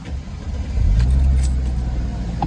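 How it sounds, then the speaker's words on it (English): A Mercedes CLK 240 V6 engine cranks and catches, then settles into a steady low rumble close by, with a faint jingle of keys early on. "Let's put the key in the ignition, start it up."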